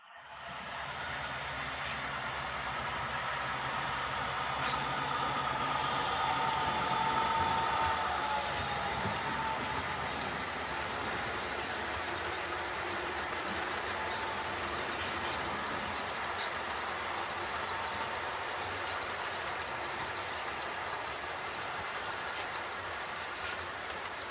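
A model railroad coal train runs continuously with a steady rumble, its clatter and hum holding at a constant moderate level with no voices.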